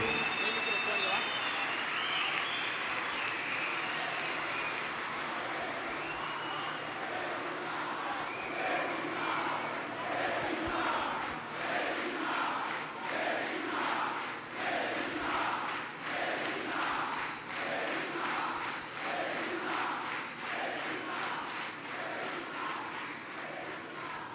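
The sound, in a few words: crowd applauding and cheering for the vice-presidential candidate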